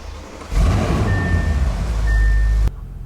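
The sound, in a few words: Audi RS7 car engine starting up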